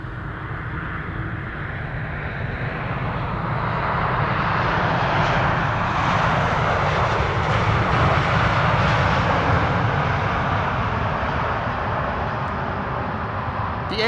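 A KLM Boeing 777-200 jet airliner arriving from Boston makes a steady, loud, broadband roar that swells slightly toward the middle and holds throughout, with no voices over it.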